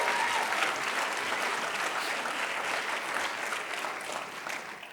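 Steady, dense applause from a church audience during a sermon, a broad wash of clapping that holds at an even level throughout before easing slightly at the end.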